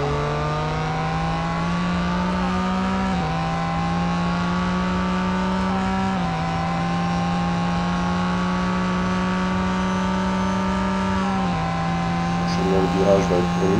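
A Ford GT race car at Le Mans in the mobile racing game Real Racing 3 accelerating flat out, its engine note droning high and steady with brief dips at gear shifts, loud and continuous throughout.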